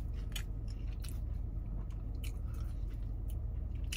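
Someone chews and bites into a Burger King Double Southwest Bacon Whopper up close, with soft wet squishes and occasional crisp clicks over a steady low hiss, no talking.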